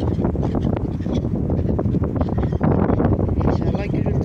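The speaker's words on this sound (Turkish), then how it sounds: "İnşallah gürültülü çıkmaz, rüzgar var çünkü" Heavy wind buffeting the microphone produces a constant loud rumbling roar, with a voice talking underneath.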